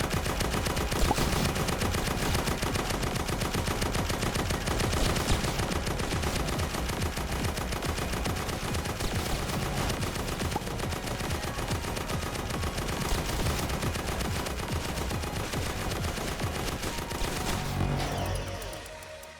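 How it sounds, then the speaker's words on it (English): Sentry towers fire nonstop in the Roblox game Tower Defense Simulator during a boss test, a dense, loud barrage of rapid machine-gun shots that runs for nearly twenty seconds before cutting off and fading at the end. "Let's jump straight to the second test, where all the sentries are fully prepared to fire."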